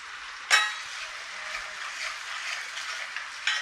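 Steady, bright sizzling of food frying in a pan for a mutton curry, onions with a pinch of salt, heard up close and alone, with a couple of sharper spatters.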